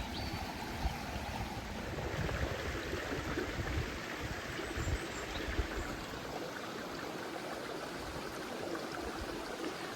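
Ewden Beck flowing with low water, a steady broadband rush and gurgle of the stream running continuously nearby for the whole stretch, with no voices.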